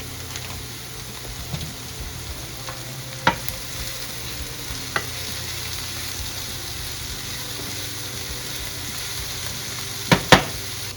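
Vegetables for a lasagna stirred in a hot pan, with a steady soft sizzle and a few sharp scraping clicks of the utensil against the pan, and no talking.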